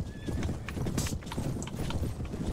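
Horse hooves in the Mount and Blade: Warband video game, a dense fast clatter of many galloping hooves with snorts and a brief whinny over steady background noise.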